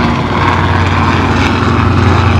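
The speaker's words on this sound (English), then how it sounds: "Now there's a helicopter." An aircraft roars loudly overhead, a dense broadband rumble of a passing helicopter or propeller engine filling the short stretch without any voices.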